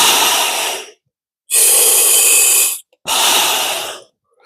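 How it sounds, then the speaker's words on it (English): Three loud, close breaths drawn through a scuba regulator, each a long hissing rush of air separated by brief silences. "I'm going to take a couple of breaths and then you're going to watch the gauge."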